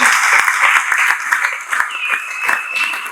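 A live audience at an evangelistic gospel event in Nairobi, Kenya breaks into loud, sustained applause, dense rapid clapping throughout with a brief sustained tone sounding over it partway.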